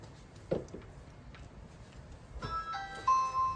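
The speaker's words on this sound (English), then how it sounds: "Jasmine, ring the doorbell." A faint electronic doorbell chime rings, a few sustained tones after a quiet stretch with soft background noise.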